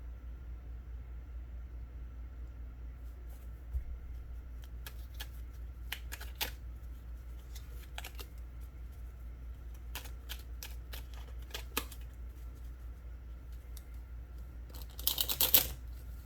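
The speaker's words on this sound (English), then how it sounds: "Let's give it another shuffle." A deck of tarot cards is shuffled in a quiet room, sparse soft riffling flicks and taps at scattered moments over a low steady hum, ending in a brief louder burst of card riffling.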